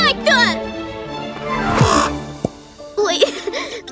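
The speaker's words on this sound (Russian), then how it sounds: "Ой, прости, ворона." A cartoon crow cawing amid lively animated dialogue, with harsh caws standing out among voices and a sliding cartoon effect, close and loud.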